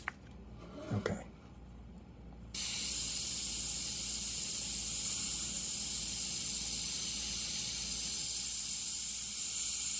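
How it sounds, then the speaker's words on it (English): Airbrush spraying paint onto a Mustang hood: a short burst of faint clicks and hiss, then a steady, even airy hiss that holds for the rest of the clip. "This obviously becomes smooth because it's just airbrushing"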